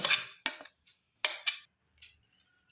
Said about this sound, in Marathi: संपूर्ण डाळ मी वाटून घेतलेली आहे आणि एका पातेल्यामध्ये काढून घेतो